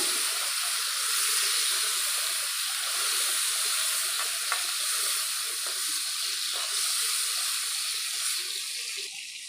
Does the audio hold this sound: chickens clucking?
no